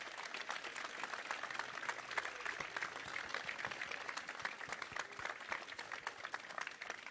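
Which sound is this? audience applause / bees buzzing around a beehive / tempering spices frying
audience applause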